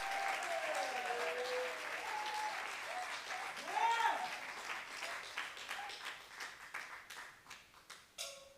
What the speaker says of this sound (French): Et je vous demande, s'il vous plaît, un tonnerre d'applaudissements pour Kodjo